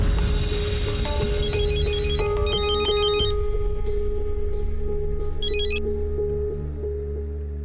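A phone ringtone plays loudly and repeatedly as a bright, chiming melodic pattern over a low steady hum, tapering off slightly toward the end with no talk.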